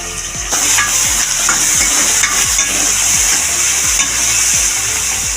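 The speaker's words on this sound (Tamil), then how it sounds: "ரெண்டுத்தையும் நல்லா வதக்கி விட்டுக்கலாம்" Onions and goat lung sauté in a pan under a steady sizzle, while a spoon scrapes through them in regular strokes roughly every half second, loud and close, with no talking.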